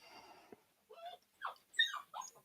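Several puppies give short, high whimpers and yips in quick bursts, faint and close, with small gaps between cries and no talk over them.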